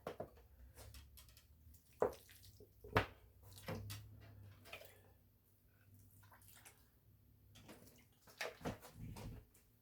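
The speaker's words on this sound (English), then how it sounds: "I soak it until that water runs out of the bottom holes." Water trickles and splashes in short bursts into a potted house plant, with a few sharp knocks and clunks, close by and fairly quiet.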